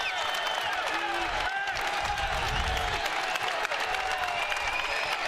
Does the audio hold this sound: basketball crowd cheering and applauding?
yes